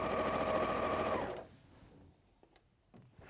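A sewing machine stitches in a fast, steady whir for about a second and a half, then stops, leaving faint clicks and handling noises in a quiet room.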